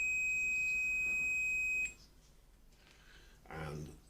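A multimeter on continuity setting emits a steady high-pitched electronic beep while testing a CDI unit, holding for about two seconds before cutting off, followed by faint handling noise and a brief voice.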